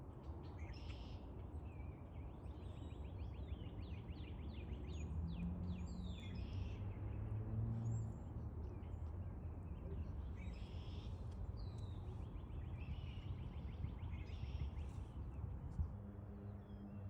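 Wetland birds call in repeated chirping and hooting phrases, moderately distant, over a constant low roar of city traffic in the urban surroundings of the marsh.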